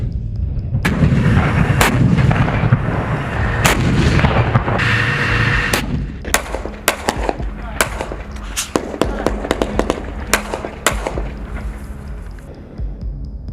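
Gunfire rounds pound a Russian T-72 tank, giving dense heavy blasts for the first six seconds, then a string of sharp separate bangs with gaps between them, loud and close throughout.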